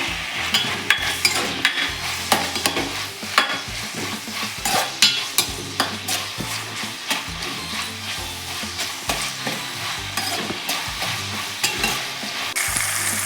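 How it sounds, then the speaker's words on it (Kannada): Tomato frying in a pan for a village-style egg sambar, a continuous sizzle punctuated by frequent rhythmic scraping and knocking of a spatula against the pan, close and fairly loud, with no voices. "ಒಂದು ಟೊಮೆಟೊ ತಗೊಳ್ತೇನೆ ಫ್ರೈ ಮಾಡಬೇಕು"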